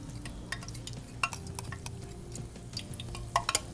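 Beignet dough is lowered by spoon into hot frying oil, giving a soft continuous sizzle with faint scraping and a few light metallic clicks of spoons, close up and without talk.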